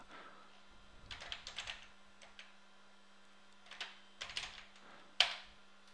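Typing on a computer keyboard at a command prompt, a quiet run of key clicks in short bursts with pauses between, ending with one sharper, louder keystroke.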